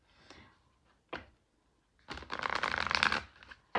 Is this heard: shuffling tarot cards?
yes